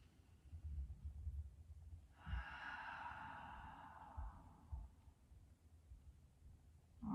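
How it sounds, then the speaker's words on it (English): A slow, deep breath during a gentle beginner yoga flow: a soft, drawn-out airy inhale or exhale lasting a few seconds, faint and close, alone in a quiet room. "Big deep breath."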